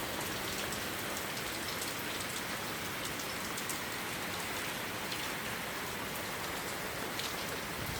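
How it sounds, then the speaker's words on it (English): Heavy rain pours down steadily outdoors, a dense, loud, unbroken hiss of drops hitting surfaces that holds the same level throughout with no voices. "Boy, it raining harder than the mud"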